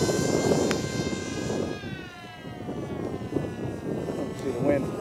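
The small whining motor of an FF-Demon model airplane fades and drops in pitch as it flies in to land outdoors, with a person talking over it.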